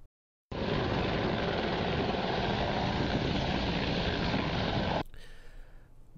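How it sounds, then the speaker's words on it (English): A real helicopter in flight gives a loud, steady rotor and engine roar that starts abruptly, holds constant, then cuts to a quieter background. "It's a real helicopter. It's really flying."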